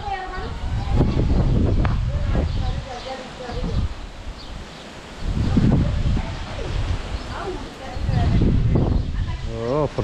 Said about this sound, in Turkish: Rüzgar çıktı, içeri geçin.